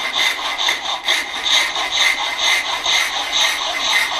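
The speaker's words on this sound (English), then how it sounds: "we can have the piece of timber straight up and cut the dovetail lines on an angle" A hand saw cuts angled dovetail lines into upright timber, its steady back-and-forth strokes rasping close and even, about two per second, with no talking.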